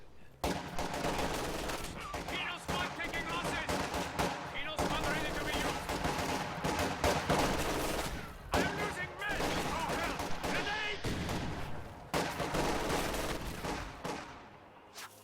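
Rifle fire and bursts from an MG42 machine gun crackle through a Company of Heroes match, dense continuous rattling volleys with brief pauses, loud and busy, with someone talking over them.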